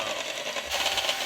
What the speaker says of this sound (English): my mom let us borrow her hand mixer.